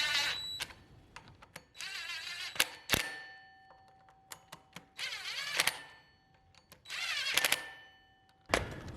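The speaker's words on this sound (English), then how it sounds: "Okay, I'm gonna tighten everything down." Metal wrench working bolts on a turbo LS4 V8 swap into a Pontiac Fiero with the stock transmission, heard as sharp metallic clicks and clinks alone, with several bursts of ratcheting and clattering tool noise separated by brief pauses.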